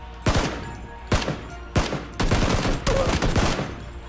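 Gunfire on the PUBG firing range in a video game: five sharp, punchy shots spaced irregularly about half a second to a second apart, close and loud against a quiet background.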